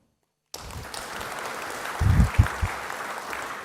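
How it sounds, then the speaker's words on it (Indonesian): After a moment of silence, an audience at an Indonesian presidential event on money-laundering enforcement breaks into steady applause, with a few heavier thumps partway through. "tepuk tangan"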